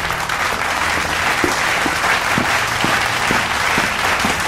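A television studio audience applauds a guest Argentine actress, a steady, full round of clapping with faint crowd murmur and a low repeating musical beat beneath it.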